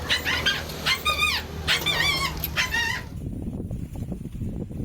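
Several stray street dogs bark and yelp in a rapid, overlapping burst during capture by municipal workers, close and loud for about three seconds before fading into a rumbling background of outdoor commotion.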